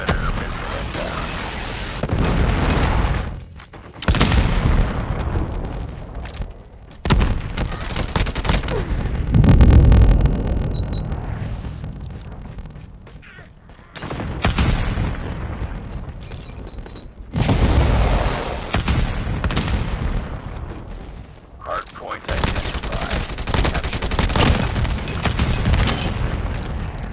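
Predator missile strikes in a Call of Duty multiplayer match land as several loud, deep booming explosions with rumbling tails, separated by short quieter gaps amid ongoing game noise.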